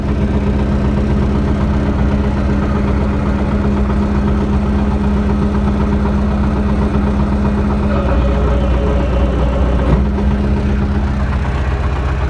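An MTZ-80 tractor runs with its R80 hydraulic distributor moved to the rear of the cab, its engine idling with a steady mid-low drone and a faint whine from the distributor. The sound holds constant and near, with no talk over it.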